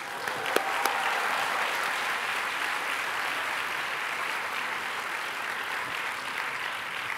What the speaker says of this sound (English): The older you get, the louder the applause.